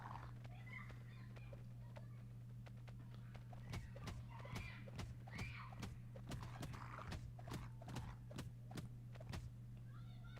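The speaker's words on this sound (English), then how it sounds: "Horse run." A galloping horse's hooves clatter in a fast, even series of sharp beats over a steady low hum, a game sound effect at moderate volume.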